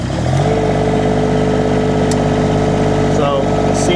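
Engine of a Chinese mini skid steer idles and revs close by, a loud steady mechanical drone with a rising pitch near the start, while someone talks over it.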